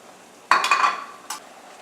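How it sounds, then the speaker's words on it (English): Pureed tomatoes hit a hot pan of cooked ginger and garlic with a sudden loud sizzle that fades over about half a second, followed by a brief second sizzle burst as the mixture is stirred. "So now I'm going to add the pureed tomatoes."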